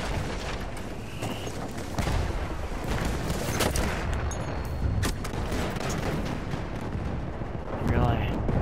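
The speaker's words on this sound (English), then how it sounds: "Getting shot at." Dense battlefield gunfire and artillery booms in Battlefield 1 roll on continuously, loud and layered with distant and near shots, while a voice talks over the chaos.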